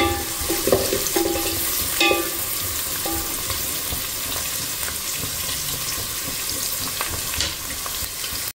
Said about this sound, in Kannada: ಇದಕ್ಕೆ ಈರುಳ್ಳಿ ಮತ್ತು ಮೆಣಸಿನ್ಕಾಯಿ ಹಾಕ್ತಾಯಿದ್ದೀನಿ. ಚೆನ್ನಾಗಿ ಹುರ್ಕೊಬೇಕು.